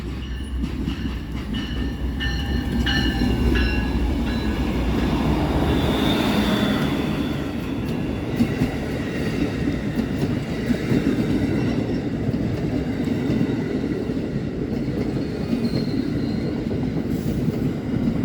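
Passenger train hauled by a P-42 DC and an ALC-42 locomotive rolls by close and steady, a loud continuous rumble of wheels and cars with a few high squeals and horn-like tones early on, no voices.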